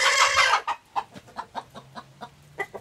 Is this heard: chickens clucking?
yes